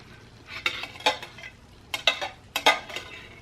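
Beans stirred with red sauce in a pan, bursts of scraping and clinking utensil strokes against the pan in two clusters, close and fairly loud over a quiet background.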